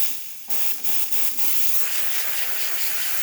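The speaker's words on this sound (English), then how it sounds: "Excellent steam pressure coming out from this machine." A strong, steady hiss from the steam wand of a Pasquini Livia G4 espresso machine fills the clip, briefly interrupted by a few short pauses early on before settling into continuous loud spraying.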